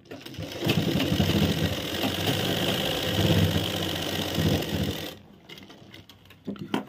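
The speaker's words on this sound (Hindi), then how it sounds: "यहाँ से सिलाई लगा देंगे" A sewing machine runs steadily for about five seconds, stitching a pant seat near the ticket pocket and belt, then stops, leaving a few soft handling clicks.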